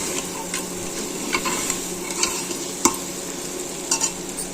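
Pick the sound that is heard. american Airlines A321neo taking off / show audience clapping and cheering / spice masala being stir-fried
spice masala being stir-fried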